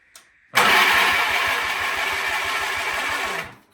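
A small gasoline engine on an old Sears machine pull-starts: a quick tug, then it roars to life, runs loudly and rattling for about three seconds, and cuts off.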